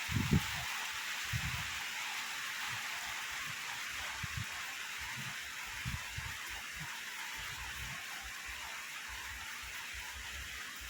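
Rain pouring onto earth outdoors with wind arriving, a dense steady hiss with occasional low thumps and gusts, continuous and alone without speech.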